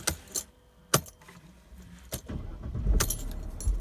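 Keys click and jangle in the ignition of a 2011–2015 Mercedes SLK R172 as it is cycled, a few sharp close clicks followed by a low rumbling swell toward the end.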